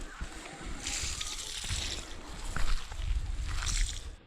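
Water sloshes and splashes as sweet potato cuttings are watered in soil, a steady wet gushing that swells and fades with a few gurgles, with people talking over it.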